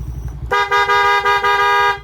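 A loud, sustained car horn blares for about a second and a half after a brief low rumble, pulsing slightly as it holds.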